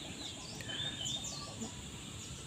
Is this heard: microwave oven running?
no